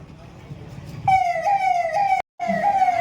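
A steady wailing emergency siren at a mock drill sounds loud and near, holding a high tone that cuts out briefly before resuming, over a low rumbling background.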